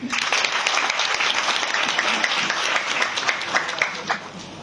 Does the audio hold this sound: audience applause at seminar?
yes